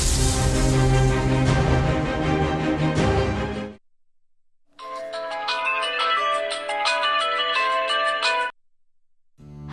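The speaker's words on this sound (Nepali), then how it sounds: "म तिमीहरुकै अगाडि त्यसलाई फोन गरेर सुनाउँछु" A phone rings with a bright, melodic ringtone during an outgoing call, loud and close, in two long bursts separated by a pause of silence, with a third beginning at the end.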